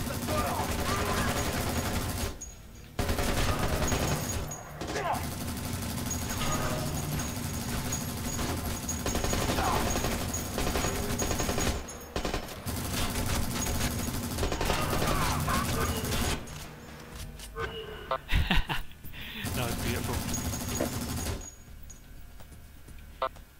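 Turret machine-gun fire in Splinter Cell: Conviction co-op, long rapid bursts of automatic shots broken by brief pauses, loud and close, with players talking over it.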